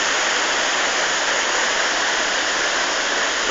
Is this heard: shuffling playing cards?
no